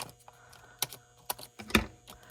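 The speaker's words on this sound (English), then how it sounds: "I'm just snipping off the edges." Scissors snip off the edges of paper in a quiet craft setting, with a handful of short, crisp clicks at irregular intervals, the last one the loudest.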